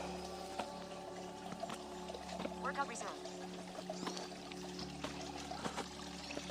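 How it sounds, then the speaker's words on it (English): Creek water trickling and pouring beside a muddy trail, a faint steady stream heard under a runner's footsteps and rustling, with a short spoken phrase. "You can listen to the creek a little bit."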